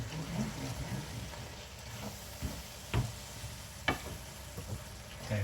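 Bolognese sauce sizzling softly in a pan while being stirred, a quiet steady fry broken by several distinct spoon knocks and scrapes against the pan.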